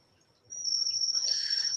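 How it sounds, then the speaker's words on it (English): A cricket chirps in a steady high trill that starts abruptly and holds for over a second, fairly close and alone in a quiet setting. "They're just big ass fucking crickets."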